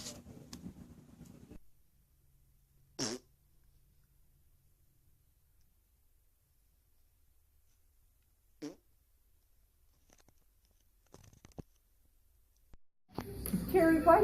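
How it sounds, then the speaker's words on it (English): A pet dog lets out a couple of short, isolated farts amid long quiet stretches, with someone talking and a louder burst of sound at the end. "Really, she's farting."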